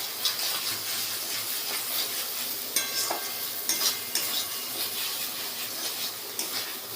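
Boiled eggs and potatoes sautéing with spices in a pan give a steady, close sizzle, with repeated scraping stirs and a few sharper clinks and no talking.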